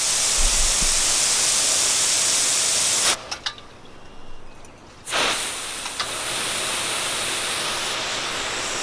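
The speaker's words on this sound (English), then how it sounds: "If I turn that on, and you can hear the pump kick in." Loud hissing rush of water from a backyard hose fed by a rain barrel pump, dropping off briefly in the middle and then resuming strong and steady.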